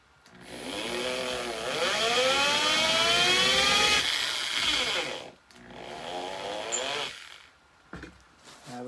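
A 1/2 inch Forstner bit bores a pocket into wood, giving a loud, continuous motor whine that rises in pitch, stops briefly, then runs again more quietly before winding down.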